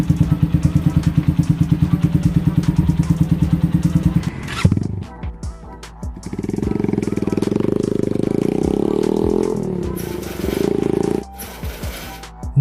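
A liquid-cooled SOHC single-cylinder motorcycle engine thumps in a steady rapid idle, then revs up and settles, with some clatter and mechanical noises between bursts.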